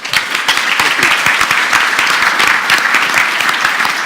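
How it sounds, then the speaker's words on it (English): Audience applause at a Total War Rome II developer session at Rezzed 2013: dense, steady clapping from a sizeable crowd, loud and continuous for the whole stretch with no talk over it. "Big round of applause."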